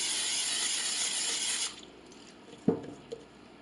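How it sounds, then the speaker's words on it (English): Cooking spray aimed into a mixing bowl for dough: a loud, steady aerosol hiss lasting about a second and a half, then quiet with a couple of small knocks afterward. "I'm going to spray my bowl."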